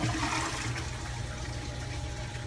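Water rushing through a commercial fryer vat to rinse out old oil, a loud, steady gushing torrent close by that fills the whole moment without speech.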